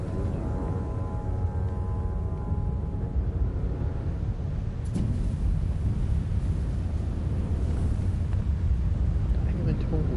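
In the video game Journey, a steady dark wind roars continuously with a dense low rumble that never lets up, while a voice talks quietly beneath it.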